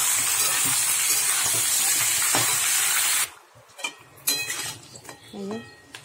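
A fish head sizzles loudly in hot oil with onions, a bright continuous hiss for about three seconds, then it quiets to softer frying under clinks of a utensil and a pot.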